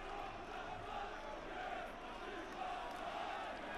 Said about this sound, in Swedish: Och då var det jubel på stadionläktarna.